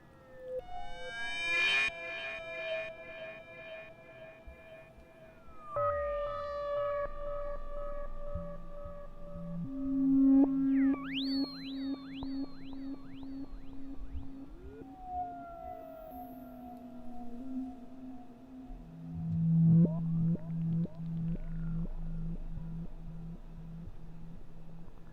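Instruo oscillator in a modular synthesizer with FM applied, making bleeping, siren-like sweeps and warbling pitched tones that bend and shift over a sustained hum, moderately loud and alone throughout.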